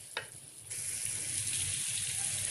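Masala for beef nargisi kofta starts frying after a brief click, a soft steady sizzle with a faint low hum beneath, quiet and close.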